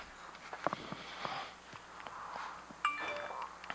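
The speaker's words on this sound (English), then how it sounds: "Why is my phone noisy?" A phone gives a short chiming notification tone, a bright ding with ringing overtones that follows light tapping and handling noises at low level nearby.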